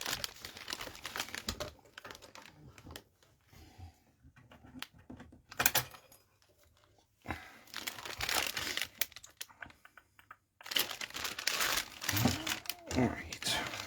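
Zip ties in plastic packaging handled during a Motorola CM140 UHF radio modification, giving bursts of crinkling and rustling with clicks, broken by quieter pauses, and speech heard between.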